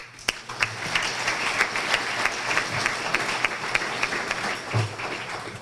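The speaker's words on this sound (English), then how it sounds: "I think everyone should give themselves a round of applause for that." A black-tie charity gala audience applauds, with dense, sustained clapping and a few sharper individual claps throughout, filling the room at moderate loudness.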